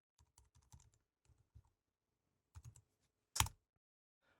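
A command is typed on a computer keyboard to run a JavaScript file in the console: quick, quiet clusters of close key clicks, a short pause, then a final louder key strike, with no talking.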